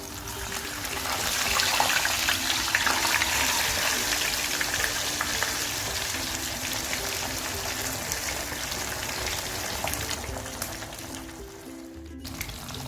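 Tilapia pieces spiced for a masala fish fry sizzle in hot oil with a steady, dense crackle close by. The frying runs on without pause and no one talks.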